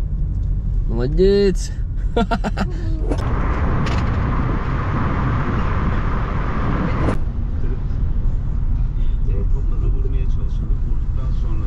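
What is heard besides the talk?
car engine starting and driving off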